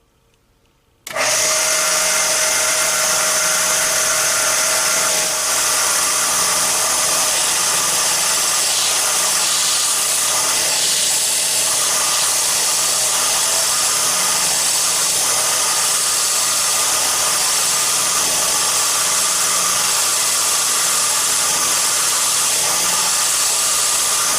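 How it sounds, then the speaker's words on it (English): A simple spindle sander in a shop sanding a wooden blade blank down to a layout line. A steady loud motor whine starts abruptly after a moment and holds with a constant grinding drone throughout. "I have a very simple spindle sander set up, and that's going to help me dress down to my layout line"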